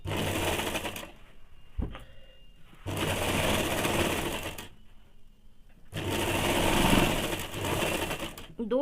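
A sewing machine stitches a semi salwar in three long runs of rapid, even whirring, each stopping abruptly with quiet pauses between, close by and loud.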